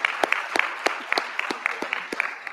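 Audience clapping at a cybersecurity conference event, a small group with distinct claps in an uneven rhythm, moderately close.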